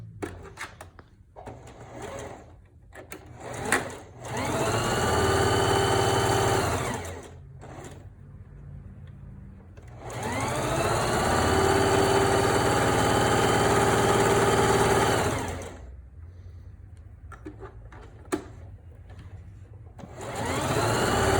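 Sewing machine stitching one continuous seam on a fabric face mask, running in two long steady whirring bursts of several seconds each, separated by quieter handling noises and pauses, close and alone without talk.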